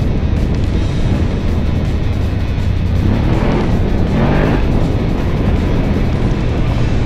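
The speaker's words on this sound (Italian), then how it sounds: "Qui anche un tratto con un po' di ondulato che però ci fa vedere proprio come la moto lavora bene anche su queste sconnessioni." A 2018 BMW F850GS motorcycle rides over bumpy, rippled off-road terrain, giving a loud, continuous engine drone with low rumble and rattling throughout and a brief rising tone midway.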